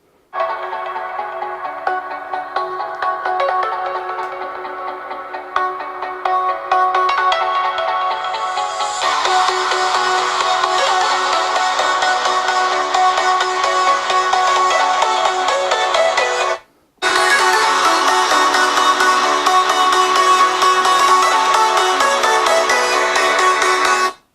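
A loud, bright electronic ringtone melody plays steadily from a Google Pixel phone speaker, thickening partway through, then cutting out briefly before resuming at full volume.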